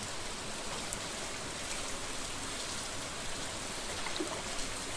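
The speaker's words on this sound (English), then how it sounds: "rainy days are sort of a relaxing period if you're playing through the game normally" Steady, even rainfall in the Stardew Valley video game, a soft continuous hiss of drops with no talking.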